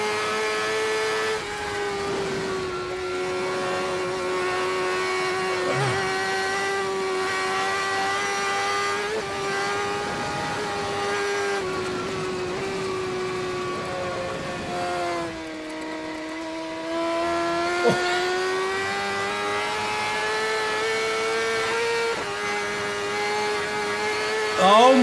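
Peter Hickman's racing motorcycle on an Isle of Man TT lap, a sustained high-revving engine drone that rises and dips with gear changes, heard from onboard under a constant wind rush, with a brief voice near the end.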